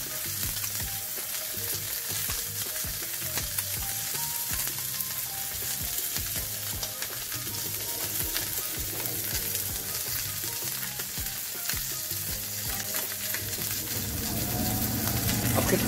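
A beef fillet sears with garlic in a hot pan, giving a dense, steady sizzle and crackle that swells slightly toward the end.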